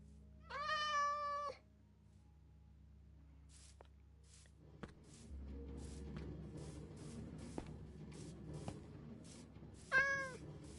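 A Minecraft cat meows twice, once near the start and again near the end, with soft shuffling and faint clicks in between at a quiet level.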